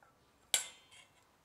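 A spoon clinks once, bright and sharp, against a glass while stirring dragon fruit juice with icing sugar, followed by a softer second tap in a quiet room.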